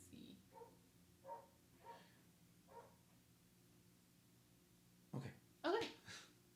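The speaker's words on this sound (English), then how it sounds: "the upstairs neighbors' dogs are stomping and barking really loud" Dogs in an upstairs apartment thumping and barking, a series of muffled, spaced thuds and barks coming through the ceiling, growing louder near the end.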